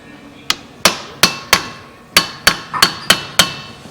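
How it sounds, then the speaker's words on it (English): A hammer strikes a manual impact driver set in a T30 rotor screw on a car's wheel hub. About ten sharp metallic whacks ring out close by in an uneven rhythm, each with a brief ringing tail. "when you take an impact driver and you drive it like that, it gives it a jolt, knocks it loose"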